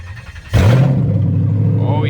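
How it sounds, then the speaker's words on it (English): A Lexus LS400 engine cranks and fires up, catching abruptly and settling into a steady, loud idle close by. "Let me start the car real quick"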